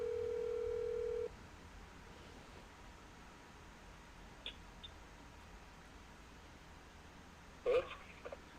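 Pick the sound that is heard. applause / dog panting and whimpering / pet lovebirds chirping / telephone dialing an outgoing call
telephone dialing an outgoing call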